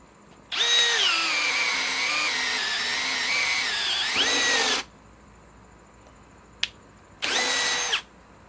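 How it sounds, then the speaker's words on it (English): A Milwaukee M12 Fuel cordless drill with a 5/8 bit whirs loudly under load for about four seconds, its pitch dipping as it bores, then a short click and a second brief burst. "Let's drill into this,"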